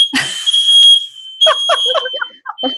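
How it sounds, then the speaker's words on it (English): A house smoke alarm goes off with a piercing, steady high beep that sounds loud and close while people talk over it. "Oh, and there goes our fire alarm."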